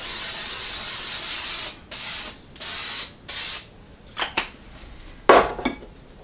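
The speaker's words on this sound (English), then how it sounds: "the first thing you do is spray your pan." Cooking spray hisses into a big glass baking pan in three or four close, sharp bursts, followed by a few light clinks of the pan being handled.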